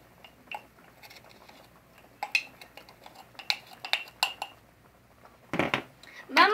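Passion fruit juice and a cup of sugar stirred in a pot to make syrup; scattered close clinks and scrapes of a utensil against metal, growing louder and denser toward the end, with quiet background noise.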